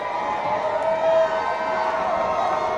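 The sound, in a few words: basketball crowd getting loud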